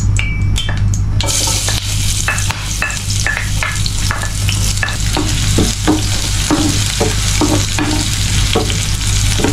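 Garlic and onions sauté in oil in a pan with a loud, continuous sizzle, broken by repeated rhythmic scrapes and clacks of a stirring utensil against the pan.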